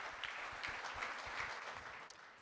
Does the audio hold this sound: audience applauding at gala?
yes